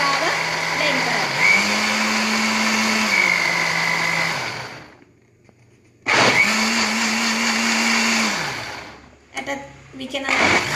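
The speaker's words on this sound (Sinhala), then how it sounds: "මූඩියෙන් වහලා බ්ලෙන්ඩ් කරන්නයි යන්නේ." A lidded blender whirring loudly as it purées wood apple with coconut milk, seeds and all, running in two long bursts with a pause between and a brief restart at the end.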